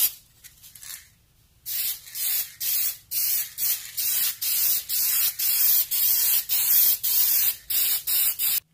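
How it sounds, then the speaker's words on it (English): A can of silver spray paint hisses in a long run of short, even bursts onto a mailbox, loud and close, with brief pauses between each spray and no talking. "I'm going to dust it with a little bit of the same color spray paint silver"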